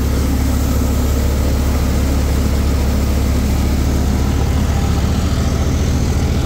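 A John Deere 5210 tractor engine runs steadily nearby, a loud, continuous low diesel rumble with a throbbing drone that stays level throughout without pause.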